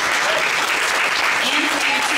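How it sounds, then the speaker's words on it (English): Audience applause at a public panel talk on the census, a continuous dense clapping from a crowded room, steady and fairly loud throughout the short stretch, with a faint voice murmuring underneath. "Okay, round of applause for these two."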